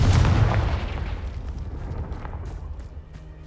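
The Confringo spell from Hogwarts Legacy goes off in a loud, deep explosive boom that slowly fades into a rumbling tail with scattered crackles.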